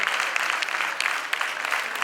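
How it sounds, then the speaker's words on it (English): Applause from the audience at a college debate competition, a dense, steady patter of many hands clapping throughout, without voices. "We can applaud better than that. Everybody in the audience."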